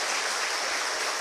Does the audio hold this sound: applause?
yes